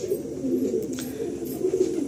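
Breeder pigeons in a loft coo softly and repeatedly at close range, with low throaty calls rolling on for about two seconds and no voices over them.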